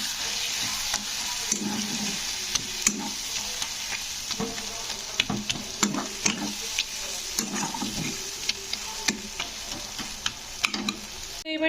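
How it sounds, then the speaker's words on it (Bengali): Spice paste for a jackfruit curry fries and sizzles in a pan while being stirred, with steady hissing broken by frequent scraping and clattering strokes of the spoon, close and continuous with no talking. "তো দিয়ে এবারে মশলাটাকে কষে নিতে হবে।"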